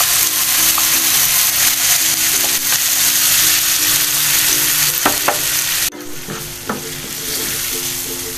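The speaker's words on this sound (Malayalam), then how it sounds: "എന്നിട്ടൊരു മീഡിയം ഫ്ലെയിമിൽ നന്നായിട്ട് സോട്ട് ചെയ്തെടുക്കാം" Blended tomato paste sizzles steadily in a pan over a medium flame, sautéed with chilli, onion and garlic for an Italian seafood pasta sauce; a continuous loud frying hiss with occasional stirring scrapes.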